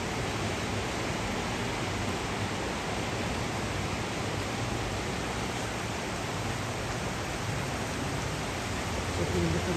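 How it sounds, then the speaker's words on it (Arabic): Heavy rain pouring down steadily, a dense unbroken roar of downpour close by with no gaps, loud throughout. "شايفين المطر ازاي؟"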